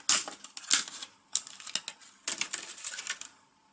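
A RAM memory module is unpacked from its plastic packaging, giving close crinkling, clicking and rustling bursts in a few uneven clusters, with no talk.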